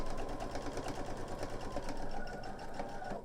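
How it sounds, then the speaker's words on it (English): A sewing machine stitches a quilt piece down, running in a fast, steady mechanical chatter at close range with no voices. "And I'm going to sew this piece down"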